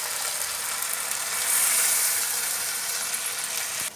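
Ground masala paste sizzling in a hot pan for bandas potato gravy, a dense, bright hiss that swells in the middle and stays steady, close up with no talking.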